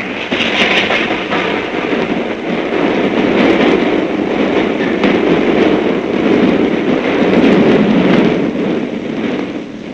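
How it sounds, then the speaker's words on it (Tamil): A train rumbles past close by, a loud steady roar of wheels and carriages with rattling clatter throughout, no voices. "அப்பப்பா ட்ரெயின்"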